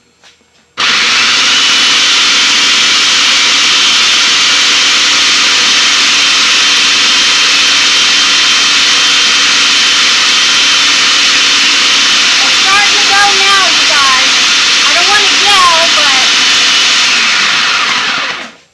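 A food processor runs steadily for about seventeen seconds, chopping pico de gallo ingredients with a loud, continuous whir, and a voice speaks briefly over it near the end.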